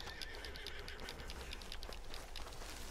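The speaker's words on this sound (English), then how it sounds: "Here comes my horse." A horse in Red Dead Redemption 2 neighs and whinnies over the rapid clip-clop of its hooves as it approaches, with the whinnies repeating.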